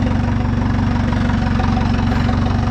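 A tractor engine runs steadily after starting, a loud, close, rhythmic diesel chugging and knocking with constant vibration and no voices.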